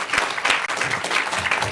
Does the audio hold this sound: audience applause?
yes